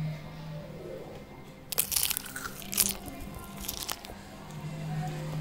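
Crisp crunching bites into a deep-fried Tamil-style cabbage vadai, a few close, quiet crackly bursts separated by pauses, with a low steady hum underneath.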